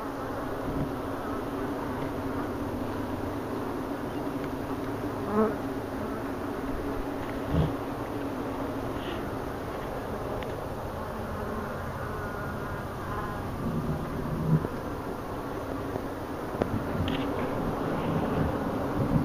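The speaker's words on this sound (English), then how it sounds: "I've got enough not so happy bees. They're really pissed off bees." Angry honey bees swarm during a hive removal, a steady dense buzzing drone that fills the air continuously, close and loud, with occasional individual bees zipping past the microphone.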